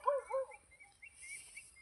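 A dog gives two quick, faint yelping whimpers close together, followed by quiet background hiss.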